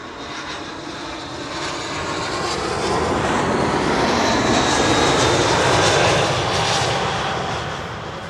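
British Airways airliner landing at Schiphol, a loud sustained jet engine roar that swells through the middle and eases slightly toward the end, broadband rumble heard alone.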